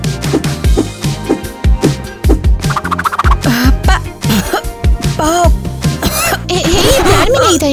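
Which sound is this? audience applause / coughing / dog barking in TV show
coughing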